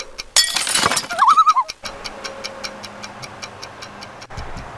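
A clock ticks steadily once a timer starts. A sharp clattering burst and a brief warbling tone open the sequence, then the regular, fairly quiet ticks carry on alone.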